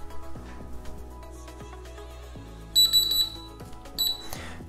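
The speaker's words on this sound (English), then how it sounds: "Start a timer for 10 minutes." A kitchen timer set for a ten-minute gluten test-strip wait goes off with two short bursts of high electronic beeping, heard up close against a steady background hum and scattered clicks.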